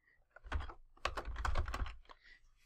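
A short, quiet burst of clicking keys on a computer keyboard as a comment is typed, in two quick clusters of close taps with no talking.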